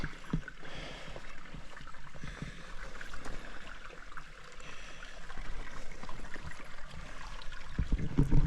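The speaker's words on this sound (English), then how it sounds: "Awful lot of creek crossing out here." Creek water flowing and trickling along a hiking trail near the Devil's Bathtub, a soft continuous burble with some closer splashing and sloshing toward the end.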